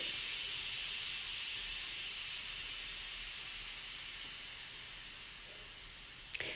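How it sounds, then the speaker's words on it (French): Steady, loud hiss of steam venting from an electric pressure cooker, continuous and near, easing slightly toward the end with a small knock at the close. "Vous avez le choix aussi de laisser sortir la vapeur naturellement"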